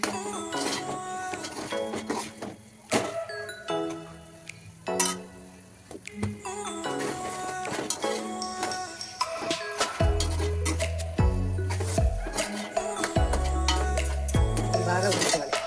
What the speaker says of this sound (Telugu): ఈ పేస్ట్ వేసి కలుపుకొని